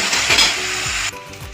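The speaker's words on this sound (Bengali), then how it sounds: "বেগুনটা ভেজে নেব, নুন হলুদ মাখিয়ে দিয়েছি বেগুনটার মধ্যে" Cubes of eggplant rubbed with salt and turmeric fry with a loud, close hiss while a utensil clinks and scrapes the pan. The sizzle drops abruptly partway through, and no one speaks.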